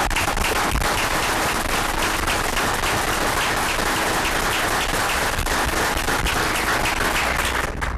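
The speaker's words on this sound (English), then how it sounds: "I'd be remiss if I didn't ask you to at least give a round of applause for my wife." Dense, sustained applause fills a commissioners' court, a loud, even roar of many hands clapping at once that holds steady before cutting off near the end.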